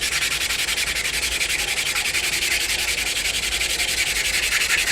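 Steady, even rasp of 150-grit sandpaper on a block worked over a forged hamon blade, a continuous close scratching hiss with a regular back-and-forth pulse and no talking.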